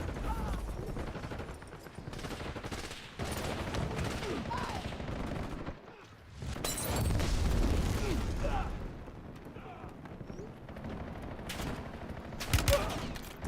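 Video game war-zone combat with dense, continuous gunfire and rapid bursts crackling through the mix, with a heavier rumble midway and sharp shots near the end, heard at moderate level under faint voices.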